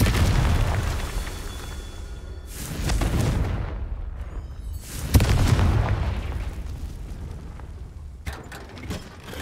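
Confringo blasting spell in a Harry Potter video game, a few heavy booming blasts with rumbling tails spaced several seconds apart, loud and near, followed by fainter mechanical clicks.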